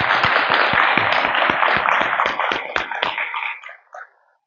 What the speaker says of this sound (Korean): 우리 기본교육생들을 위해서 큰 박수 한번 보내주십시오